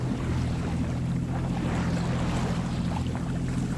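A sailboat leaves its anchorage channel off Great Barrier Island, New Zealand, and heads toward open sea, with a steady low engine-and-water rumble and wind noise running continuously throughout.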